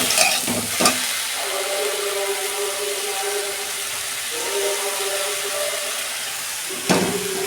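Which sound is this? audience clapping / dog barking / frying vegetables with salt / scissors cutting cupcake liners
frying vegetables with salt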